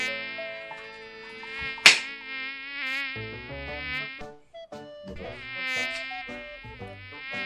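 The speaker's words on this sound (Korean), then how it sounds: "모기 모기 잡았어" A mosquito buzzes close and loud in a steady, high, reedy whine, broken by a sharp click just before two seconds and a brief gap in the middle before the drone resumes.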